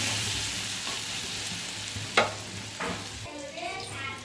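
Bhola fish pieces coated in salt and turmeric fry in hot oil in a pan, giving a soft, continuous sizzle and hiss with a couple of brief stirring knocks.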